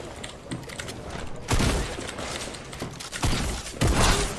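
Gunfire in the video game Fortnite, bursts of shots in three loud volleys separated by quieter clicking and mechanical tapping, close and sharp.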